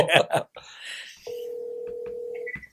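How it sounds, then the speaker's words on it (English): A telephone on a live call: quick dialing tones after a brief spoken exchange, then a long steady ringback tone running for over a second before another short tone. "It's ringing."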